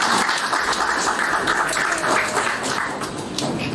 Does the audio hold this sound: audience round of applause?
yes